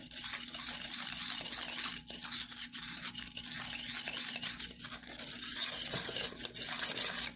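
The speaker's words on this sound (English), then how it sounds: "Okay, we are going to stir these together." A spoon scrapes and swishes steadily through a thick mixture with milk in a bowl, making close, continuous wet stirring sounds with brief pauses, for pumpkin chocolate chip cookie dough.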